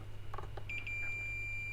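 A multimeter set to continuity mode gives a steady electronic beep, sustained and fairly loud, after a few brief clicks of probe contact during a Bose speaker repair.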